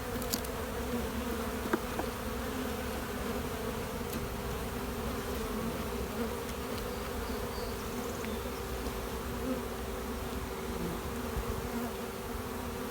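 Honey bees in a well-stocked hive give a steady close buzzing hum, continuous and even throughout, with faint occasional clicks and no voices.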